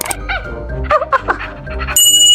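A toy robot puppy gives a quick series of high yips and whimpering barks, close by and fairly loud.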